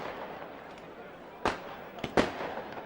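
Fireworks at a Workington v Whitehaven rugby league match crack three times in sharp, fairly loud bursts over a steady stadium hum, with a voice talking underneath.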